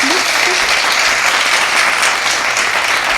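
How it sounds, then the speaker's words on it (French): A stock applause sound effect added in iMovie plays as a loud, dense, continuous wash of crowd clapping with no breaks, a brief low tone flickering at the very start. "Donc, je vais aller ajouter des applaudissements."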